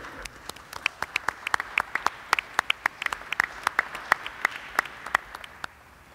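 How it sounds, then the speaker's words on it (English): A small audience at a Governor Cuomo briefing gives a round of applause, sparse individual claps popping out crisply at an uneven rhythm before tapering off near the end. "Let's give New Yorkers a round of applause"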